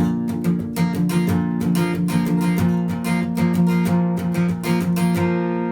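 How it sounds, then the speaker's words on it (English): An acoustic guitar is strummed steadily and loudly up close with palm muting, the chords sounding short and percussive with a chunky, damped attack on each stroke. "I'm going to add some the palm muting now."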